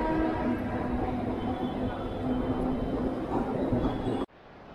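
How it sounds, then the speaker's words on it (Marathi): Trains at Chhatrapati Shivaji Maharaj Terminus railway station, serving Central, Harbour and Western lines plus long-distance routes, make a steady loud rumble with station bustle that cuts off abruptly near the end. "इथे सगळे सेंट्रल हार्बर, वेस्टर्न सगळे लाईनचे रेल्वेज आणि गावाकडे जाण्यासाठी पण इथेच थांबतात रेल्वेज"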